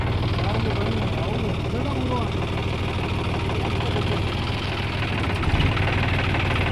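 A John Deere tractor engine runs steadily at a low, throbbing idle nearby while the driver turns and maneuvers it, the rumble continuous with people talking over it.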